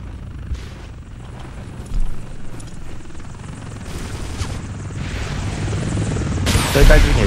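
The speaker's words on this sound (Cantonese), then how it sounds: "仲有架直升機海邊嚟緊。" A helicopter approaches from the seaside in a first-person shooter, its steady rotor drone running throughout with bursts of gunfire and a loud blast near the end; voices talk over it.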